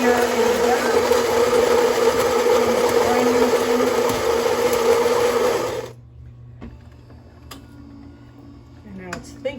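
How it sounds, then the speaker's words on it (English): A Philips Carina automatic coffee machine grinds espresso beans with a loud, steady whirring buzz for about six seconds, then cuts off abruptly, leaving quiet room tone with faint clicks. "And you can hear it's grinding"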